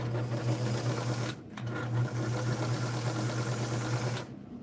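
A White zigzag sewing machine, model 782, runs in two steady bursts of fast, rhythmic mechanical humming and ticking, close and loud, with a short pause between runs and a stop at the end.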